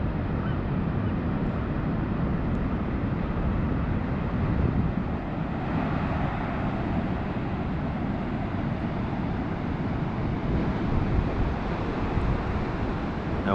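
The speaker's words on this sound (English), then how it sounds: "here's a first look at the Pacific Ocean here in Seaside" Pacific Ocean surf rolling onto the beach at Seaside, Oregon, a steady, full roar of breaking waves with wind buffeting the microphone throughout, no pauses and no talking.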